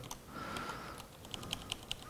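Someone types on a computer keyboard while editing in Vim: a brief run of quiet key clicks followed by four evenly spaced, sharper keystrokes, close up and with no voices.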